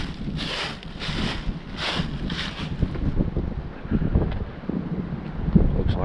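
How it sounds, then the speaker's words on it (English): Wind blows outdoors in aspen country during an elk hunt, a steady buffeting rush hitting the microphone in gusts, loud and close, with faint rustling underneath. "It's getting cold and windy already."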